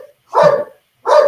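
Two sharp dog barks about a second apart, close and fairly loud with silence between them, heard indoors during a crawfish party.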